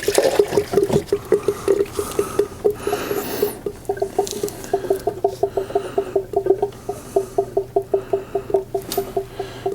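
Engine coolant from a Jeep Wrangler drains into a measuring cup, giving a close, steady trickle with rapid rhythmic glugging pulses through most of the stretch.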